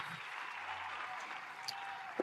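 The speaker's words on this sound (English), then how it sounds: "Round of applause" A short, steady burst of applause plays on a podcast, even and fairly faint, with a couple of slightly louder claps near the end.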